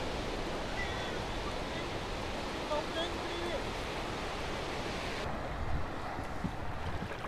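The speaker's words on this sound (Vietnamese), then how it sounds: "mặc cho sóng biển cuồn cuộn." Rolling sea waves and surf off a Vietnamese fishing village coast, a steady, broad roar with wind buffeting the microphone throughout.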